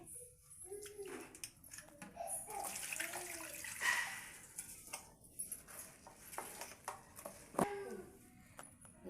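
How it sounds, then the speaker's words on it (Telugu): Soaked rice for sakinalu is tipped into a sieve, and water drains out with soft trickles, splashes and a few clinks of metal utensils. It sounds quiet and close, in short irregular bursts. "జల్లెట్ల పోస్తే నీళ్ళు పడిచిపోతాయి"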